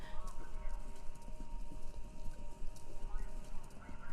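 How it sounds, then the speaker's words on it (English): Rapid hoofbeats of galloping horses in the video game Kentucky Route Zero rumble continuously at a steady rhythm, with faint voices beneath. "Sounds like horses? Horses running?"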